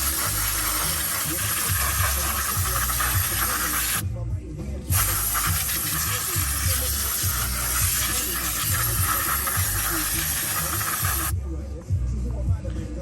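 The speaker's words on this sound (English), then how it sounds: "Right now would be a good time to hit up some brake clean and just clean this whole area." Brake cleaner sprayed in long hissing bursts over the brake area of a car during a brake and tie rod job, a steady broadband spray broken by two short pauses.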